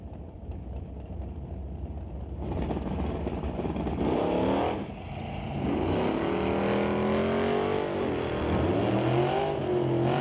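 A 1988 Mustang Fox body and a 1966 Bel Air launching in a drag race, engines roaring and revving hard through climbing gear changes, loud and close with a steady roar that builds and holds.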